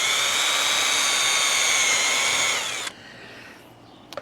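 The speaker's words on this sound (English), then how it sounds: "I'm going to pre-drill." A power drill pre-drills holes in replacement brick molding around a door, its loud steady whine running for almost three seconds before it cuts off and leaves quiet room tone.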